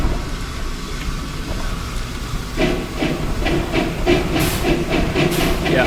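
Oil-fired steam locomotive hissing steadily while switching, a constant broad hiss with rhythmic chuffing pulses and some brighter bursts building in the second half, close and fairly loud, no talk.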